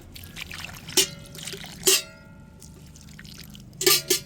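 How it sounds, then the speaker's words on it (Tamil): Water is poured onto newly planted chrysanthemum plants in a terrace garden, giving three short splashing bursts over a low background trickle, close by and moderately loud. "இப்போ நம்ம மறுபடியும் கொஞ்சம் தண்ணி ஊற்றிடலாம்"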